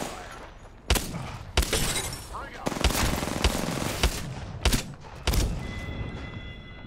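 Rapid gunfire in the battle royale game Apex Legends, with sharp bursts and single cracks scattered through a busy mix of shots and impacts, while a player talks over the action.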